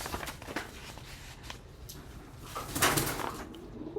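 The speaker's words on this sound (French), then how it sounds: "Apparemment, les pigeons, ils veulent parler aussi." Pigeons coo softly in the background, a few low cooing calls scattered through the clip under a quiet indoor murmur.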